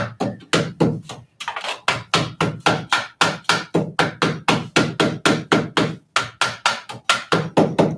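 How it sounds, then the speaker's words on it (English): A machinist hammer strikes metal in a steady, rapid series of sharp, ringing blows, about three per second, loud and close, with only a brief pause near the start. "The detailed work can use another side of the hammer, the mechanist hammer, to do this work."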